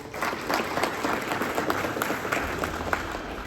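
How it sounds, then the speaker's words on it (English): A crowd applauds steadily, many hands clapping in a dense, sustained burst at moderate distance. "Please give him a round of applause."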